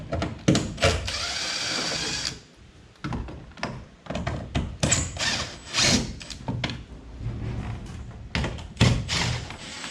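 A power drill backs zinc-coated steel screws out of rod holders on a fishing boat hull. A steady, loud drill whir runs for about two seconds, then gives way to irregular clunks, knocks and short bursts of the motor.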